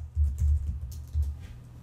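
Brisk typing on a computer keyboard, a short run of soft clustered keystrokes close by, with no talking.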